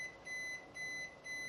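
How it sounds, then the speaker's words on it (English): Repeated electronic beeps from a Japanese hybrid fan gas heater's safety alarm, three steady tones with short gaps over a quiet fan hum. "So you can see that it has started beeping"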